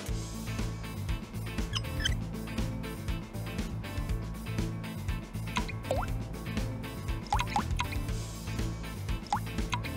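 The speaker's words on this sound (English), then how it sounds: "Make sure you count the drops that drip down." Perfume oil dripping drop by drop in Crisis Core Final Fantasy VII Reunion, a run of small plinking drips heard over steady game music.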